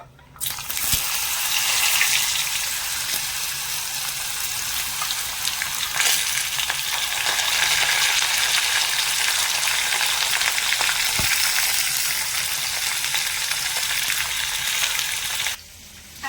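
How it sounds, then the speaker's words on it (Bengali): Vegetables frying in oil with dried chilli and bay leaf, a loud, dense, continuous hiss of sizzling with occasional faint taps of stirring, cutting off abruptly near the end. "এবারে সবজিগুলো নেড়ে ছেড়ে একটু ভেজে নেব"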